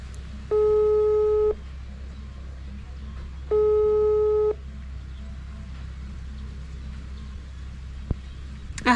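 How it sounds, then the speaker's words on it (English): Phone call ringing out: two long electronic tones about a second each, spaced a few seconds apart over a low steady hum, fairly loud and clear with no talking over them. "The phone is calling, not ringing."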